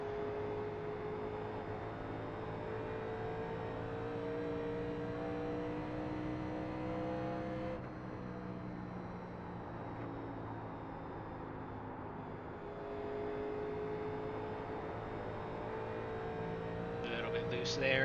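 A 1987 NASCAR stock car lapping Dover in iRacing, its engine droning steadily up close and then dipping and swelling again as it goes through corners, with someone talking over it throughout.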